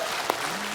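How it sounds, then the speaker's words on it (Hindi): A comedy-show studio audience applauds, a brief dense burst of clapping with one sharper clap standing out. "अरिजीत सिंह। तालियां।"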